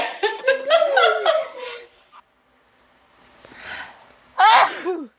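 A small animal lets out a quick sneeze amid squeaky, whimpering dog-like vocalizations, then a second sharp sneeze near the end.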